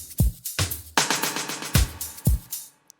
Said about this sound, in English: it's a rim and a snare